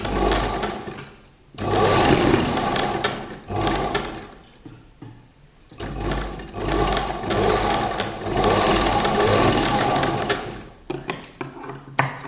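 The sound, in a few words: sewing machine stitching a gown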